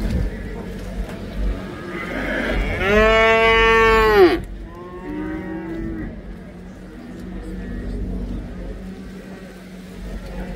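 Calves at a livestock market let out one loud, drawn-out moo lasting about a second and a half, followed by a fainter, shorter low call amid background market noise.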